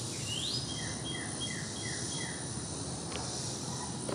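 Birds chirp outdoors among trees, a few thin high calls and a short descending series rising over a steady hiss of insects and distant ambience, fairly faint.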